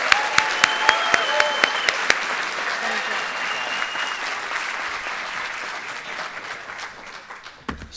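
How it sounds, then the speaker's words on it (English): An audience at a senior awards night applauds in a steady, full wash of clapping that slowly fades out, with a few sharp louder claps early on. "they deserve a big round of applause"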